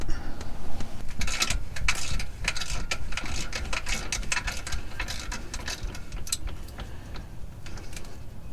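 A 3/8 ratchet clicks rapidly and repeatedly, close and loud, while loosening a differential drain plug under a vehicle, with bursts of sharp metallic ticking over a low background rumble.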